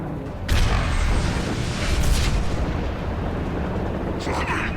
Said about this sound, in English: let's switch to the machine gun